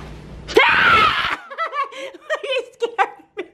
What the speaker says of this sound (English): I just screamed.